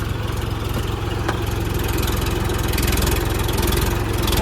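A tractor engine chugs steadily nearby, a low rhythmic diesel thrum that holds constant and swells slightly toward the end.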